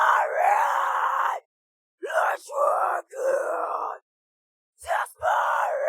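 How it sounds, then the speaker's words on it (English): Harsh, screaming metal vocals play in bursts during mixing, raw distorted yells lasting a second or so each, separated by abrupt dead silences. "let's start with some harsh vocals, some screaming vocals"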